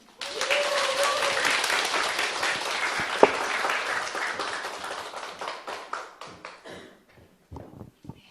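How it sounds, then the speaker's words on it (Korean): An audience applauds after a speech at a business talk, loud dense clapping from many hands that holds steady, then thins into scattered individual claps and fades out near the end. "다시 한번 큰 박수 보내주시기 바랍니다"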